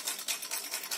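A sewing machine stitches a tissue ribbon in a quick, even run of rattling needle strokes, faint and close, over about a second with no voices.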